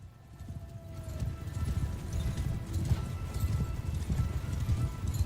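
Horse hooves clip-clop steadily in a Game of Thrones video game set in Westeros, a continuous rhythmic trot under low rumbling game sound, with a faint whinny mixed in.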